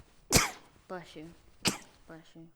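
A person sneezes twice on a podcast, producing two sharp, explosive bursts a little over a second apart, with brief quiet speech between and after them.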